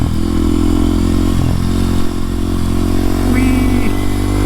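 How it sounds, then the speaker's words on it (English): Small low-horsepower motorcycle being ridden, its engine droning close and loud with a steady buzz, wind rush over the microphone and a brief pitch rise late on. "I love this little bike."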